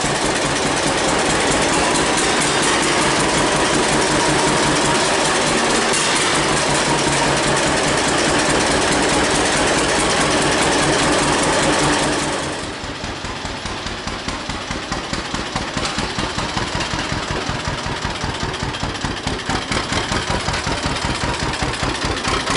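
A 1951 John Deere Model A tractor, cold and with a weak battery and starter, running with a loud, steady, rapid popping beat that drops to a slower, lighter idle thump halfway through, close up with no talking.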